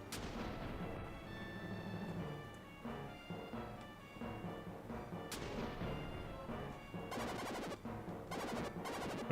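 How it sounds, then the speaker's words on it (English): Gunfire and explosive booms in the Super Nintendo game Illusion of Gaia, a loud run of sharp repeated shots and blasts with rapid bursts near the end, set over game music. "Who's shooting at me?"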